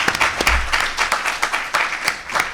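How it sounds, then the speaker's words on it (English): Conference audience applauding the panelists of a political panel discussion, a steady round of clapping with many hands, fairly close and continuous for the whole stretch. "If we can get a round of applause there."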